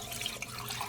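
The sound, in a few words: strained sauce poured into a pan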